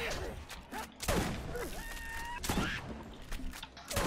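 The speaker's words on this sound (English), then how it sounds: "There's someone trying to shotgun us." In the video game Borderlands, enemy shotgun blasts ring out in sharp repeated bursts with clanking mechanisms between them, while players talk over the gunfire.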